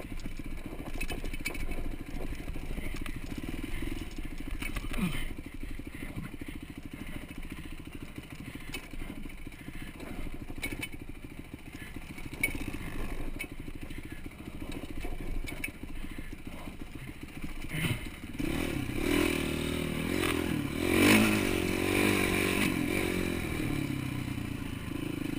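A Honda CR450 dirt bike engine revving under throttle on rough wooded trails, a steady mid-pitched motor drone with clattering and scraping, swelling louder near the end.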